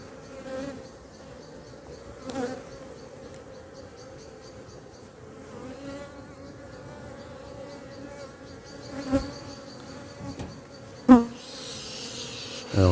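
Honeybees at an open hive in a French apiary, a dense continuous drone of many wings close by, with occasional louder buzzes of individual bees passing near and faint handling knocks.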